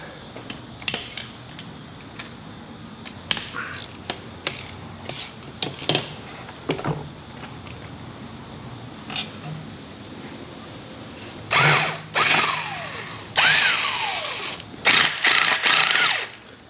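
Ratchet clicks and metal tool clanks come from work removing the starter on a Kubota RTV 900 engine. Sparse sharp clinks open the clip, then louder bursts of ratcheting follow near the end, close up with no talk.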